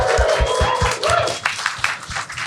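Live audience at a media event clapping for a website designer, a moderately loud, somewhat sparse patter of hands with distinct individual claps, thinning out toward the end.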